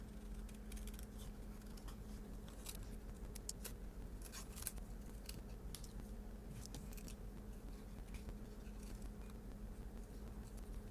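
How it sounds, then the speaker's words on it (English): Scissors cutting out stamped paper pieces for a card, a string of faint, crisp snips and paper rustles at an irregular pace, close but quiet, with no talk. "So now all we have left to do here is to cut it out."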